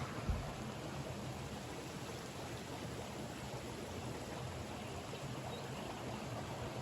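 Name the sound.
jacuzzi water feature running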